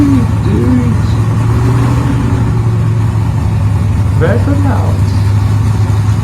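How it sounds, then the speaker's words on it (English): A gasser muscle car idles and revs at a drag race, with a steady engine drone and a couple of rising revs, while a voice talks over it throughout. "Burnouts."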